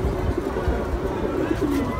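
Pigeons cooing in a loft on a father-and-son pigeon farm in Mirerbag, Keraniganj: soft, low, continuous burbling coos from several birds close by, with no talk.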